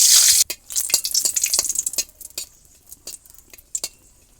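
Dry red chillies dropped into hot oil in a kadai give a loud, sharp sizzle at first, then quieter crackling frying with scattered metallic clinks of stirring.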